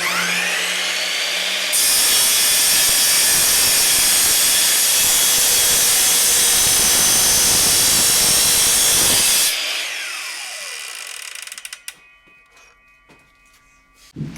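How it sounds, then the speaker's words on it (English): A belt sander grinds the textured surface off a small piece of countertop material being shaped into a sanding block, a loud, steady broadband roar lasting about eight seconds before winding down into quieter workshop clatter. "I need to sand off this countertop texture, so I'm just going to throw it on the belt sander for a minute."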